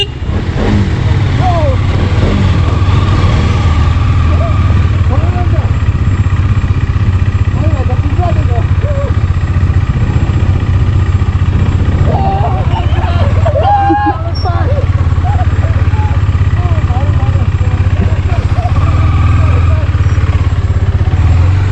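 Several bikes idle and rumble at low speed during a slow-motion race among friends on a cold Sunday ride, a steady engine drone with occasional small revs, heavily buried under close, continuous talking and chatter.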